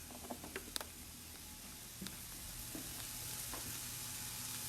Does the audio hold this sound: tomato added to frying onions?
yes